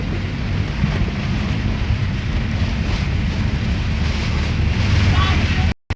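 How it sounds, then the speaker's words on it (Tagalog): Heavy typhoon rain and strong wind roar loudly and continuously, a dense broadband wash close to the microphone with wind buffeting, cut off abruptly at the end. "Malakas talaga ang ulan kamads."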